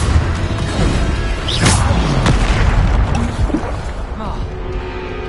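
The Bombarda explosion spell from Hogwarts Legacy goes off as a loud, booming blast amid a dense roar of crashing, whooshing game effects that stays strong throughout.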